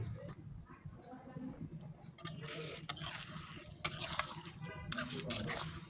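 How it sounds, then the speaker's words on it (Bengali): Fish and spice paste sauté in a pan for a spicy Bengali chilli-paste curry, a soft, low sizzle broken by scraping stirs and light clinks of a spoon against the pan, with faint background music. "মাছ আর মশলা কষানো হোক, খুব সুন্দর করে কষানো হচ্ছে"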